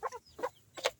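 Native backyard chickens give three short, close clucks in quick succession, each a brief throaty burst with short gaps between.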